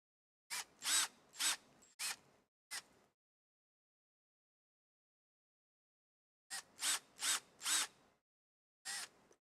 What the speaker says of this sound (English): see if I can't put the next size smaller drill bit in here